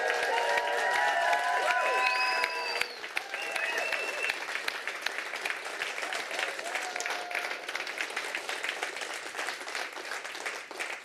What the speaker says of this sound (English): I want you to all give them a massive round of applause